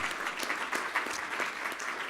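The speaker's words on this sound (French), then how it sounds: "J'aimerais qu'on les applaudisse chaleureusement." An audience warmly applauds the finalists of the Prix Jeune Espoir competition, with dense, continuous clapping from many hands and a few sharper individual claps standing out, steady for about two seconds.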